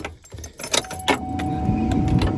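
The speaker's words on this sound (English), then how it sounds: "I'll go ahead and fire it up. You can hear it here." A stock 2003 Chevrolet Silverado with stock exhaust cranks and fires up, a few clicks and jangling keys giving way to a loud, close, steady idle rumble.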